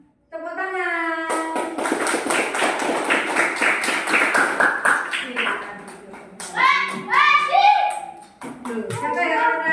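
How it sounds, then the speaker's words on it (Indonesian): Children in a classroom clap their hands together in a fast, loud, sustained burst of applause, while a voice and a teacher speak over it near the end. "Mereka bilang tepuk tangan."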